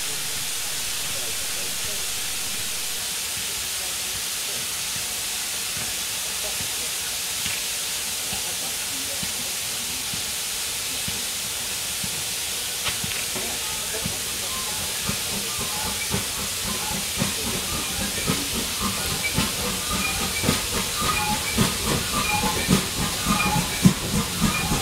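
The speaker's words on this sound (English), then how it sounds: "coming from Bishop's Lydiard, the Great Western Small Prairie 5542 with a more significant train of GWR coaches" GWR Small Prairie 5542 steam tank locomotive approaching from Bishop's Lydiard with a train of GWR coaches, a steady hiss of steam with a faint building chuff and rail clatter growing louder toward the end.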